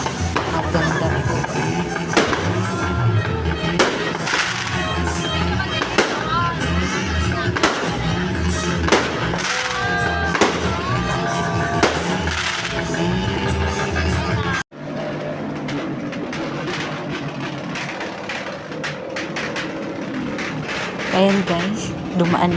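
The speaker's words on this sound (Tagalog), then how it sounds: "So, ayan na guys, yung fireworks na." New Year fireworks burst repeatedly in a Pampanga neighbourhood, sharp cracks and pops over crowd noise and passing motorcycles, with a person talking throughout.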